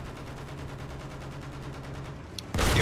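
Rapid automatic gunfire rattles in a Battlefield 1 battle, a steady stream of evenly spaced shots ending in a sudden louder burst or blast.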